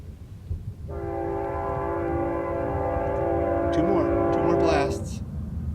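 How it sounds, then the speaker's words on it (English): A train passes a crossing at dusk, sounding a long, loud, steady horn blast over the rumble of the cars, close by, with the horn fading out near the end. "Here comes another train."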